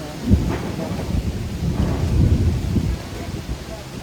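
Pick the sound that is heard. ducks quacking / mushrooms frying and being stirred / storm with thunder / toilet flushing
storm with thunder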